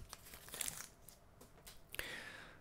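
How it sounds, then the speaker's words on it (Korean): Receipt paper being torn from an Easy Check TS-113A card terminal, pulled downward at an angle, giving a couple of short, crisp ripping and crinkling bursts close up with quiet gaps between. "절단할 때는 밑으로 이렇게 비스듬히 당겨주시면 깨끗하게 절단이 되죠"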